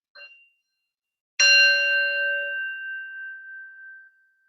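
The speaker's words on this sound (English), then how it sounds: "taking the sound of the bell, following it to the end" A bell rung at the start of a gentle Kripalu yoga practice: a brief faint ping, then one clear struck tone that rings out and slowly fades over a few seconds in a quiet room.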